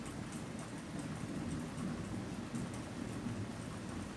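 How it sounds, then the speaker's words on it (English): Steady rain falls throughout, with a low rumble of thunder rolling underneath, continuous and moderately distant with no talking. "Ooh, there goes thunder."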